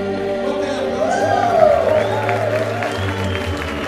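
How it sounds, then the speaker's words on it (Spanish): A crowd claps and cheers steadily, with scattered whoops rising over the applause before it levels off. "¡Fuerte el aplauso!"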